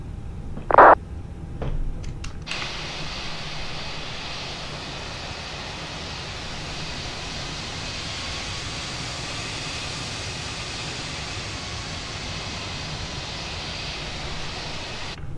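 A simulated Airbus A320 taxiing in Microsoft Flight Simulator, its jet engines giving a steady, even broadband roar that holds for most of the clip after a brief click and short tone at the start.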